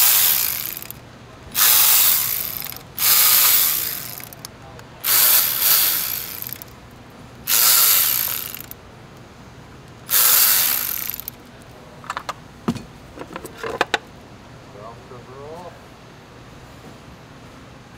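Ratchet wrench turning a 5 mm Allen ball socket on a 2001 VW Golf TDI engine: several bursts of rapid clicking, each about a second long, then sparse scattered clicks and taps, close and fairly loud.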